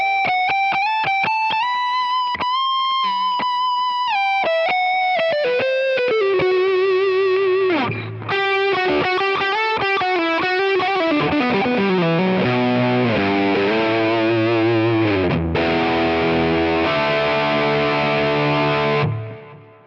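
An electric guitar playing a Dumble ODS tone through a compressor plays a sustained melodic line with smooth, even, compressed tone and effects, alone, each note held evenly in loudness.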